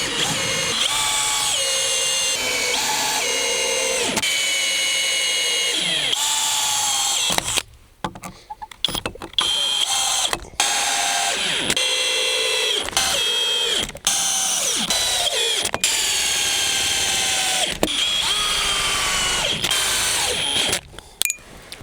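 Power drill driving metal screws into a log cabin's timbers in Finland, a steady loud whine in repeated bursts with short pauses and ratcheting clicks between runs, close up.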